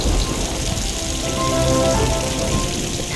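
Steady rain pattering down on a surface, a dense continuous hiss of drops throughout, fairly loud and close.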